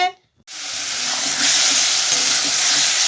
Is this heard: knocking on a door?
no